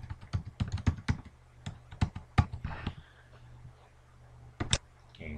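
Someone types a username and password on a computer keyboard, quick bursts of sharp key clicks, a pause, then a couple more taps, close and clear over a faint low hum.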